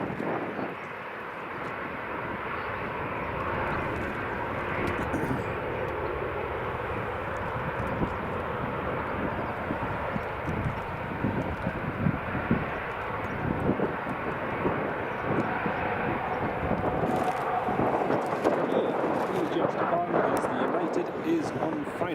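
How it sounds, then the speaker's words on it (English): An EasyJet airliner at Edinburgh Airport powers up and rolls for takeoff on runway 24, a loud, sustained jet engine roar with broadband rumble building steadily, heard outdoors with wind buffeting the microphone. "So it's EasyJet rolling."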